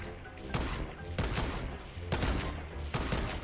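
Rapid bursts of gunfire in the Fortnite video game, four loud volleys spaced under a second apart, each a dense crackling blast filling the foreground.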